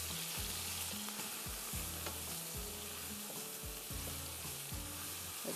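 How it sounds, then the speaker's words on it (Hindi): Onions and chicken fry in a pan as a spoon stirs them, sizzling steadily throughout with repeated rhythmic scraping strokes against the metal, close and fairly loud, with no voices. "आप इसको भूनेंगे कम से कम 5-7 मिनट, ताकि ये थोड़ी सी चिकन गल जाए हमारी"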